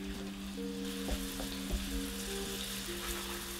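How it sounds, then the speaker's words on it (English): Oil sizzling steadily in a pan while making sundubu jjigae, a soft continuous crackle of small bubbles with a few faint clinks and a steady low hum behind it. "So a sizzle is like this, where little bubbles come."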